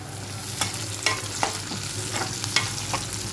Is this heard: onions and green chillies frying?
yes